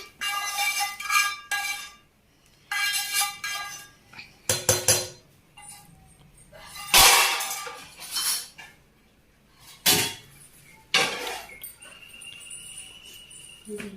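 A spoon scrapes and clinks in a bowl in intermittent bursts while vermicelli is mixed with fried egg, with quiet pauses between strokes and no speech.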